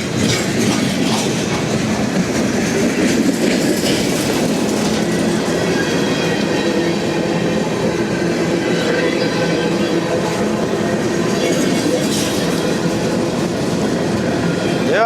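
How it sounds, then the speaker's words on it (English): CSX freight train M512 rolls north through Madisonville, Kentucky on the Henderson Subdivision, a loud, steady rumble with rhythmic clickety-clack of wheels over rail joints as the cars pass close by. "The CSX M512 heading north through Madisonville, Kentucky on the CSX Henderson Subdivision"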